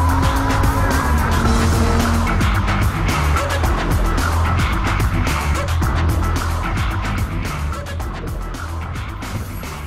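A 520 hp race car drives hard on a circuit, its engine roaring loud and steady throughout with tyre squeal mixed in, close and continuous before easing slightly near the end.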